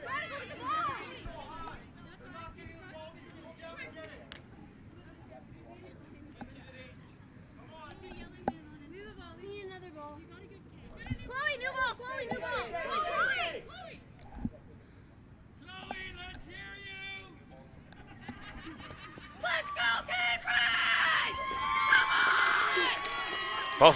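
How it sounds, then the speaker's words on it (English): Girls' under-16 soccer players from both teams shout and cheer each other on during a cup final match, scattered calls rising and falling over a commentator's voice and background crowd chatter, growing louder toward the end. "Both teams cheering themselves on, making some noise as they know these final few minutes are key."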